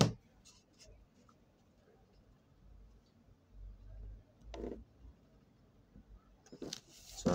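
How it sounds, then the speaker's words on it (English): Pencil drawing lines on a plain sheet of paper, quiet scratchy strokes in short bursts with soft handling noises and a few louder clicks and bumps. "I'll start by drawing border lines"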